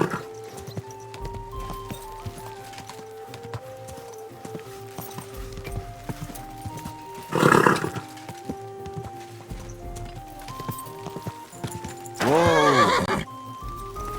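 A horse in Kingdom Come Deliverance II gives two loud whinnies several seconds apart, over steady clip-clopping hooves and a tonal game score, with no voices.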